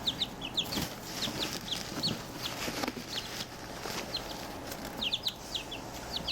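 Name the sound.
chicks clucking in a brooder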